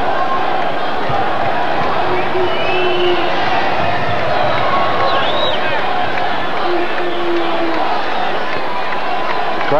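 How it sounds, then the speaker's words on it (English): A basketball crowd in the final seconds of a college game between the UNM Lobos and the New Mexico State Aggies, a loud, steady roar of voices with a chant building throughout, sneaker squeaks and bounces faintly beneath. "Crowd starting to chant, anticipating the final buzzer here now"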